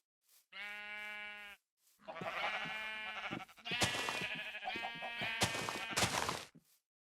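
Sheep in the video game Minecraft bleat several times, close and clear. One short isolated bleat comes first, then a longer run of overlapping, wavering bleats over silence.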